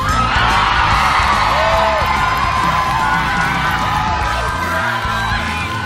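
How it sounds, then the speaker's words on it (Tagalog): A large audience cheers, whoops and shouts continuously in support of the finalists at the grand finals of The Voice Kids Philippines season 6, a loud sustained roar with children's yells rising throughout. "parinig naman ng inyong support at hiyawan."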